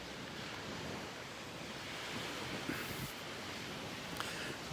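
Ocean surf washes onto a North Naples, Florida beach, a soft continuous wash of waves mixed with light wind buffeting the microphone, fairly quiet and steady throughout.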